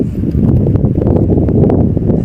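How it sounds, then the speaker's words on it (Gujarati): Strong wind gusts across an open cotton field, buffeting the microphone with a loud, steady low roar and faint rustling of plants, no voices. "એટલો બધો પવન ચાલુ છે"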